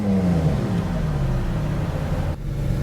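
Ferrari 458 Italia engine revving up and settling, a loud steady mid-range engine drone with a falling pitch sweep and a brief dip near the end, no talk.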